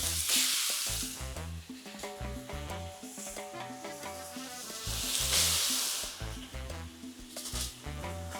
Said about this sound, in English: So the cecina is cooking.